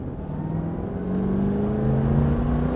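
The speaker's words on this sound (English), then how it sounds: "Listen to those four barrels open up." A 1969 Ford Mustang Mach 1 Q Code V8 with a four-barrel carburetor pulls hard as the secondaries open, a close, steady engine drone rising in pitch as it accelerates, with no talking.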